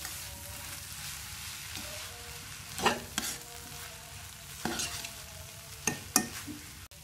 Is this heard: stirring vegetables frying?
yes